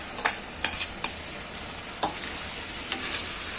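Batter-coated fried vegetables being stirred into Manchurian sauce in a pan over high heat, with a handful of sharp spatula scrapes at irregular intervals over a steady, close sizzle and no talking.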